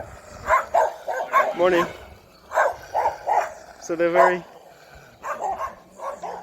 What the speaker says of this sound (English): Oh, some more dogs. Here they are.